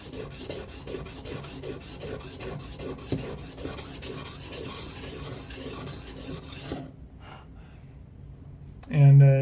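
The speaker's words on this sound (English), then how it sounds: "I'm using one of the new diamond stones that will be coming out soon" A knife blade is stroked over a diamond sharpening stone in a steady rhythm of gritty rasping passes, close and fairly quiet, then it stops; the stroking is not covered by talk.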